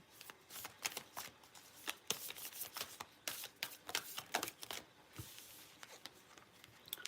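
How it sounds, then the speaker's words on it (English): Tarot cards are shuffled quickly up close, a rapid series of crisp riffling flicks and slaps with no talking. "Oh, these cards are so hard to shuffle."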